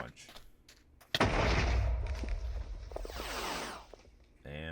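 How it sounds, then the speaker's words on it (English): An explosion in a Minecraft Pokemon mod video game hits as a sudden loud blast, then rolls on as a sustained rumbling, crackling roar for a few seconds before cutting off. "Now obviously you'd think an explosion would deal a lot of damage"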